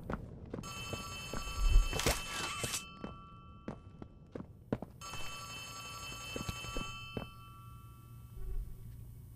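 A telephone rings in the horror video game Poppy Playtime Chapter 3, two bursts of bright metallic ringing among scattered footsteps and soft thunks, fairly quiet with no voices.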